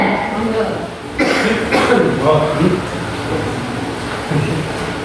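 A man coughs a few times amid a noisy room full of chatter and shuffling, with a couple of louder bursts partway through.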